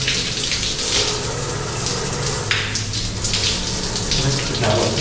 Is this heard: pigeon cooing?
no